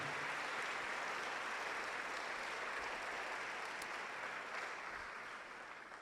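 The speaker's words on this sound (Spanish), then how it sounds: "Vamos a darle un aplauso a Jesús, que nos limpió por completo." A church congregation applauds during a sermon, sustained and even for several seconds, then gradually thinning toward the end. It is moderately distant, with no speech over it.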